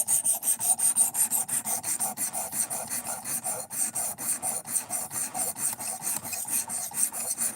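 A knife edge is sharpened on a stone to raise a burr, with steady back-and-forth rasping strokes in a quick, even rhythm, close and clear with no talk.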